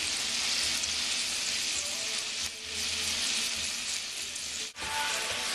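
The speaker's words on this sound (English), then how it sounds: "We've got our carrots over here that are sizzling." Carrots fry with butter and brown sugar in a pan, giving a steady, even sizzle like fine crackling hiss that runs the whole time at moderate level, with a brief dip near the end.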